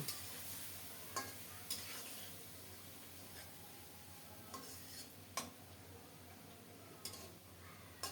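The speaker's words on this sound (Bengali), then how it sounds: "ফোড়নটা একটু বাদামি হলে মাখানো বাটা মাছ দিয়ে দিলাম নেড়ে চেড়ে মাছগুলোকে ফোড়নের সাথে মিশিয়ে দেব" Rohu fish paste is stirred into a browning spice tempering in a pan, with a soft steady sizzle under occasional sharp ticks and scrapes of the spoon, fairly faint and close.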